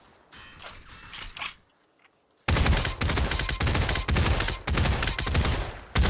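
Gunfire from a one-handed weapon in the VR video game Population One: a short, muffled burst of shots, a brief pause, then loud, sustained rapid fire with dense cracking shots until the end.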